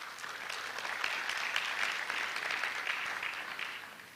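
Graduates at an induction ceremony applauding themselves, a steady, even patter of many hands held at a moderate, somewhat distant level throughout.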